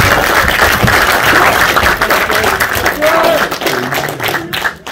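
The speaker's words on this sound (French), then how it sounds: "applaudir bien fort Alex et Nico" An audience at a Dragon Ball Day event in Lausanne applauds, dense clapping mixed with crowd noise and a voice talking over it, loud and continuous.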